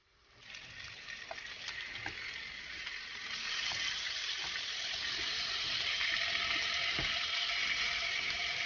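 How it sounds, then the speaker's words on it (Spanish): Sausages frying in hot oil, a steady hiss and crackle that swells after the first few seconds and holds constant, with occasional pops and clinks from the pan. "para que se frían mucho mejor"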